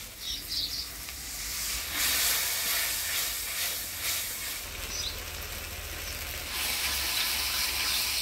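Spice paste for a soybean and potato curry sizzles and hisses steadily in a pan after a little water is added. The hiss is loud and continuous, swells partway through and carries on with no talking.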